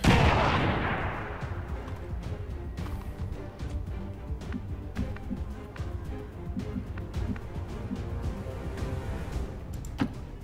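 A grenade blasts in XCOM 2, a loud boom that fades into rumbling debris, followed by scattered sharp gunfire and impacts over low game sound.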